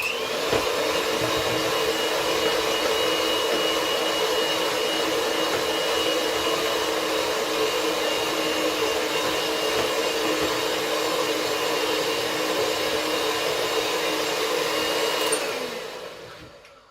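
An electric mixer beating batter for Nordic cinnamon rolls: a loud, steady motor whir droning continuously for about fifteen seconds before winding down and stopping, with no voices.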